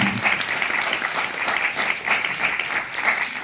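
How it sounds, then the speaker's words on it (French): An audience at a citizens' meeting in Conches-en-Ouche applauds a testimony with a dense, even burst of clapping, close and steady for a few seconds with no talk over it. "Je pense qu'on peut applaudir le témoignage de Brigitte et Martine."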